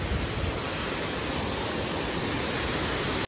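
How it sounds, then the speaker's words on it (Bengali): Waterfall water pours into Dawki Lake on the Umngot River in Meghalaya, a loud, steady, broad rushing roar that fills the scene without pause and cuts off sharply at the very end. "ওই ওখান থেকে ঝর্ণার জলগুলো পড়ে চলে আসছে এই এদিকে"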